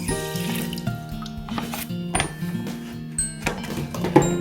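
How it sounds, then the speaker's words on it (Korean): 500 ml of water poured into a pot already holding bone broth for tteokguk, a close splashing pour broken by a few clunks and knocks of the vessel. "여기에다가 물은 500ml를 넣도록 하겠습니다"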